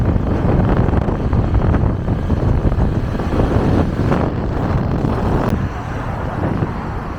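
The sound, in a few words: wind blowing on a windy day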